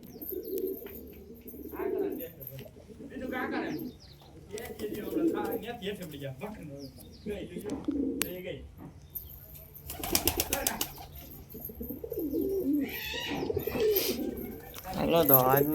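Pigeons coo repeatedly around a backyard pigeon setup, with a sharp flurry of wing flaps partway through, while someone talks over the birds throughout.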